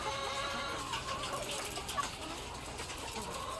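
Laying hens about two years old in a coop give soft, scattered clucks over a steady background hiss, faint and somewhat distant, with no talking.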